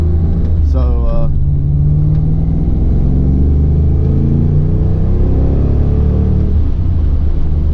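A Ford Mustang Foxbody engine runs during driving with a steady low rumble and shifting tones of road and engine noise, while someone talks over it.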